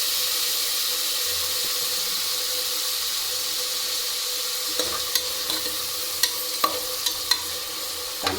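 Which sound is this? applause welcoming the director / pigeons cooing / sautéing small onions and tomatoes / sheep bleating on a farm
sautéing small onions and tomatoes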